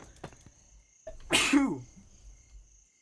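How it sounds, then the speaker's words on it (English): A single sharp sneeze bursts out close by after a brief quiet breath, followed by faint sniffling and a steady high electronic whine. "Sorry, I had to sneeze."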